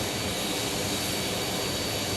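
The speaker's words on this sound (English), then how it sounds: "Here's our 757." A Boeing 757 jet airliner at Phoenix Sky Harbor gives a steady, dense, loud engine roar for a couple of seconds, with no voices.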